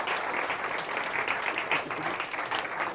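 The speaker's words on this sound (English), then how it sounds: "Big round of applause." An audience at a tech meetup gives steady, even applause after a talk, moderately loud and uninterrupted throughout.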